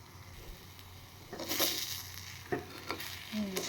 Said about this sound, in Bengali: পুরো মশলাটা দেখুন একদম চারদিকে ভাজা হয়ে গেছে।